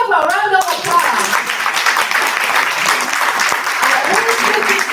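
Audience applause at an Atomy event, a dense, steady wash of clapping that fills the clip at close range, with a voice speaking briefly at the very start.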